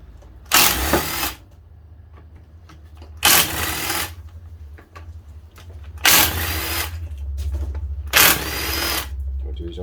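A power drill spinning out 13 mm bolts from a VW Golf/Audi TT 02M six-speed gearbox, four loud whirring bursts about a second long each, separated by quieter pauses over a low background hum.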